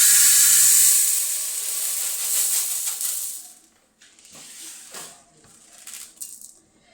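Mung beans roast dry in a pan, giving a loud steady sizzling hiss for the first few seconds. The hiss then thins into scattered crackles and pops.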